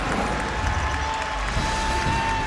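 A basketball arena crowd in a Xavier versus Villanova college game roars and cheers continuously, with a dense, loud wash of voices and some clapping throughout.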